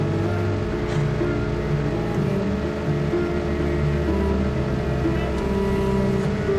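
A motorbike engine in the Call of Duty Mobile battle royale game hums steadily and fairly loudly throughout, a continuous even drone with no speech.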